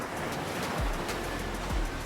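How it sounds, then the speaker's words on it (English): Sea waves wash in at Yarada Beach in Vizag, India, where hills meet the sea: a steady surf roar with two distinct wave surges breaking about a second apart, wind noise mixed in. "So this is the famous Yarada beach."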